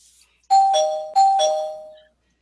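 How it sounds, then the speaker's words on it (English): A spoiler bell sound effect rings out twice in close succession, each a bright two-tone ding-dong chime with a sustained, slowly fading ring. The strikes are loud and clear, with no voices. "I'll ring the spoiler bell"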